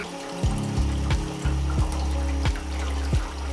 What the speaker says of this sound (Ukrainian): Ми це все діло стопимо холодною водою.